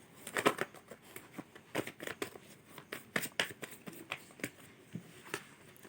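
Tarot cards are shuffled and handled close by in quick, papery bursts of flicks and riffles. The bursts come in irregular clusters with short pauses between them, and there is no talk.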